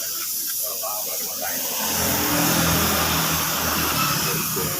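A spray gun lays red candy paint onto a motorcycle body panel, a steady loud airy hiss that swells after the first two seconds and holds continuously.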